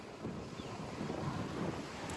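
Wind sweeps across an open paddy field on a rural trip, a soft low rumble buffeting the microphone, faint and continuous with no other clear sounds.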